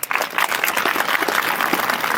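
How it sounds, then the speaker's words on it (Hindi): Loud, dense applause fills an award ceremony where a community forum honours participants and invites a teacher onto the stage; the clapping is steady and sustained throughout, with no talk over it. "जोरदार तालियां।"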